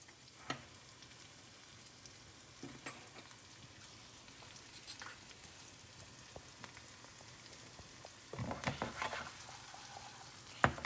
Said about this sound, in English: Now my onions are starting to sizzle and I have onions going.